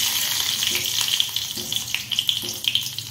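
Curry leaves dropped into hot oil with onion, garlic and coriander for Maharashtrian village-style pithla, producing a loud, bright hissing sizzle that stays steady and close, with faint stirring thumps underneath.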